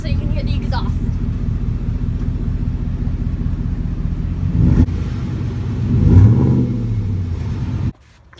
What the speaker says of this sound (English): now I'm going to rev the engine so you can hear the exhaust